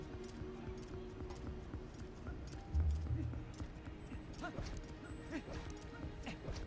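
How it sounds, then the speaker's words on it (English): A horse's hooves clip-clop steadily in a video game, faint and rhythmic beneath a busy bed of game sound, with a brief heavier thud near the middle. "Yeah, I think I will get the horse."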